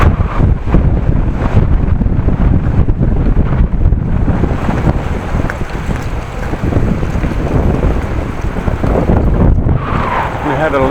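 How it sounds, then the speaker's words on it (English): Strong wind buffets the microphone on a windy, wet morning bike ride on a Dutch road after rain, a loud continuous roar with gusts throughout. "On a windy morning"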